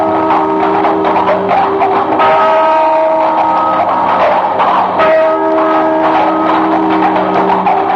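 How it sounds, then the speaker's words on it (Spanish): Loud, sustained bell ringing with dense overlapping tones and a couple of fresh strikes, echoing continuously throughout. "El ruido de una campana"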